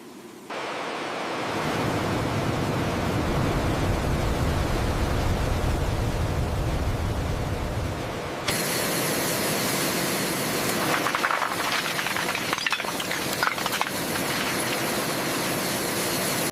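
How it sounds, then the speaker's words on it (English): Su-35 jet engines spool up on the factory ground, a broad rushing roar that builds and holds, then shifts to a brighter, harsher whine with crackling bursts, loud and steady throughout. "Spooling up engines."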